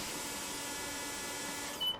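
In Train Simulator 2014, a Class 87 electric locomotive's safety system alarm drones continuously in the cab on the West Coast Main Line over Shap, a steady loud tone that cuts off near the end.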